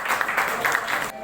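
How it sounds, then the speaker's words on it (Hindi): Brief burst of applause at a Delhi government vaccination campaign event, a quick patter of clapping from a gathered crowd. "जोरदार ताली बजाकर"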